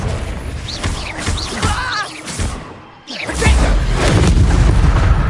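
Confringo explosion spell cast in the video game Hogwarts Legacy: loud booming blasts and crashes, then a brief lull followed by a heavy, sustained rumbling burst.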